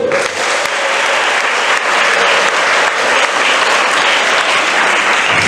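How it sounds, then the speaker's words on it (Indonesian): A high school audience in Palembang claps in a full, sustained round of applause at a university information session, loud and continuous with no speech on top. "Tepuk tangan dulu."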